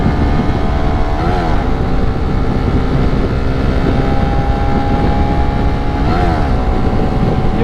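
A Raider motorcycle revs hard while riding along a wide road in Davao, its loud, buzzing engine droning steadily at high RPM with a couple of brief swelling whooshes as traffic goes by.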